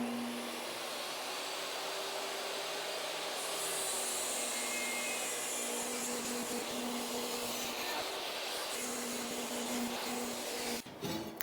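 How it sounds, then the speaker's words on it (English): A saw rips lumber pieces down into slats, its steady whining roar holding loud and continuous with a constant hum underneath, ending in a brief clatter. "Let's rip down these last 2 pieces into our slats."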